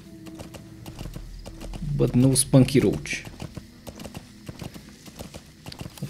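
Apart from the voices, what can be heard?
horse hooves clip-clopping in a video game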